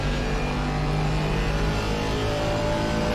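A race car engine in a racing video game held under throttle, a dense, steady high-revving roar heard loud and close with no talk.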